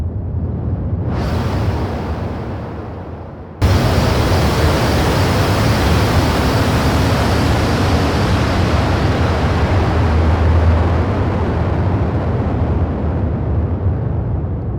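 A synthesized rocket launch effect: a huge, sustained roaring rush of broadband noise bursts in suddenly after a softer swelling hiss, then holds steady and loud like a rocket engine's thunder.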